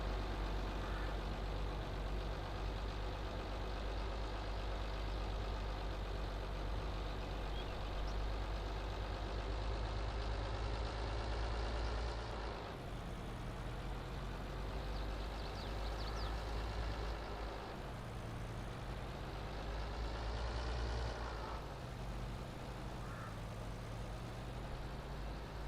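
A harvester's engine runs in Farming Simulator 22, a steady low heavy drone that holds throughout with slight shifts in pitch and load, fairly loud and with no talk over it.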